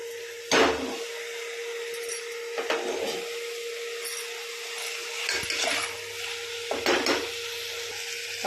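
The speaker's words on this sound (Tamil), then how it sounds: "நல்லா கிளறி விடுங்க." Chicken biryani masala stirred in a pot, several scraping strokes spaced a few seconds apart over a continuous sizzle and steady hum.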